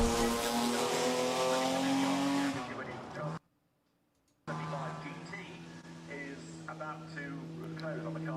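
The HKS Nissan R32 race car climbs the Goodwood hillclimb with a loud, harmonic engine howl that drops off, cuts to near silence briefly, then returns further away, with commentary voices over it.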